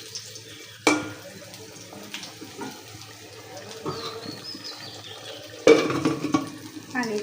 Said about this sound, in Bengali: একটু কষে নিই